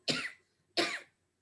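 Two short, deliberate coughs made to demonstrate kapalbhati breathing, each sharp and close, separated by a brief pause in an otherwise quiet room.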